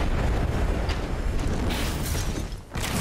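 A frag grenade explodes in Apex Legends amid loud, dense battle noise, with a heavy rumbling boom sustained across the clip and a brief dip near the end before the roar resumes.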